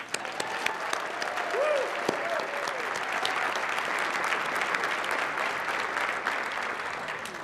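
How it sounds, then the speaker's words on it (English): An audience at the Legacy of Hope 2018 event claps for a group standing in the room, a sustained, even wash of many hands with a few sharper claps, the crowd close and loud throughout, with faint voices beneath. "now let's clap for all of them"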